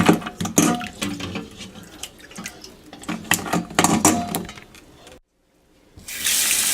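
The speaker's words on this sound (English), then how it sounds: "flood with cool water to cool down the eggs" Cool tap water splashes and gurgles into a pot of cooked eggs, loud and uneven, then stops briefly before a steady rushing flow starts again.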